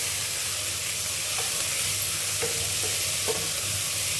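Onions, garlic and curry leaves fry in a pan with a steady, close sizzle, punctuated by a few soft clinks of a spoon stirring the mixture.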